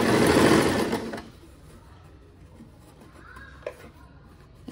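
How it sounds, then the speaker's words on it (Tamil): A sewing machine stitches the side opening of a churidar in one loud, steady run of about a second, then stops, leaving a quiet room with a faint click near the end. "ஸோ இப்போ நான் வந்து ஸ்டிச்சஸ் ஸ்டார்ட் பண்ணலாம்."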